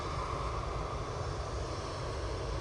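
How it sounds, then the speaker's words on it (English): easyJet Airbus A320ceo climbing out of Manchester Airport for Alicante, a faint distant steady jet engine rumble and hiss, alone with no voices. "EasyJet A320 CEO going up to Alicante now"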